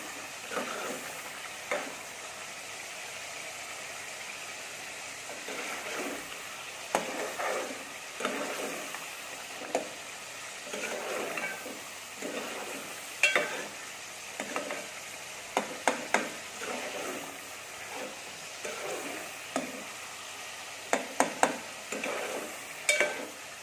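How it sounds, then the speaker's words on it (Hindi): Chunks of meat for chana dal gosht being stirred and fried in hot oil in a pot, a steady close sizzle broken by repeated scraping stirs that grow sharper toward the end, with no voices. "अब हम इसे 2 मिनट अच्छी तरीके से भूनेंगे।"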